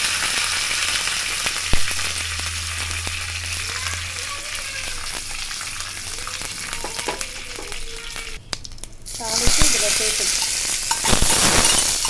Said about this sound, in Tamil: கடுகு நல்லா பொரிஞ்ச உடனே காயில் மிளகாய் கருவேப்பிலை